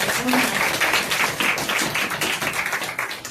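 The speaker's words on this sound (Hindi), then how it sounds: "जोरदार तालियां बजती है।" An audience at an IIKD anniversary event bursts into loud, dense applause, a steady wash of many hands clapping that fills the room and continues without a break.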